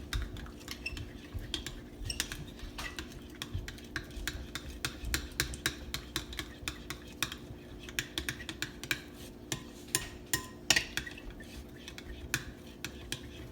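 A spoon stirs a vegan, gluten-free ice cream mixture in a bowl, giving quiet, steady clinks and scrapes that repeat in an even rhythm over a low kitchen background.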